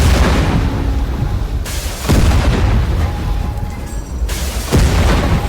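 In a tank-battle video game, Type 90 air defense missiles slam into a T-80 tank as a string of loud, heavy booms, with three or four sharp impacts over continuous rumbling battle noise.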